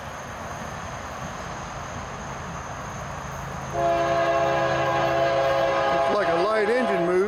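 Westbound Norfolk Southern freight led by a GE AC44CW locomotive at Yadkin Road in Chesapeake, Virginia: a low rumble of the approaching train, then a loud, sustained multi-tone air horn blast that bends in pitch near the end, with a voice briefly audible.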